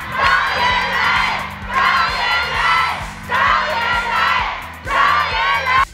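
A theatre audience at a Deyunshe crosstalk show applauding and cheering, loud waves of clapping and shouting that swell and ease in repeated bursts.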